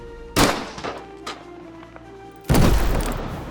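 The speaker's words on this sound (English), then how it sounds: "zeroing his aim and firing an ultrasonic anti-material round" A sniper's ultrasonic anti-material round in a dramatized action scene at a parking structure: a sharp blast, a few smaller hits, then a heavy, sustained booming roar that fills the rest of the moment.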